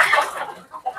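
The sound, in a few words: native chickens clucking in coops on a farm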